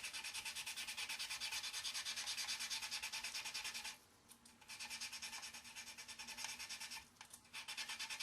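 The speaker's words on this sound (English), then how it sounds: "Just sand in." Filler being sanded smooth on a 1/32 Trumpeter Swordfish plastic model kit, a close, steady run of quick rasping strokes that briefly pauses and then resumes, with no voice.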